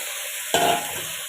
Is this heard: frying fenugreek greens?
yes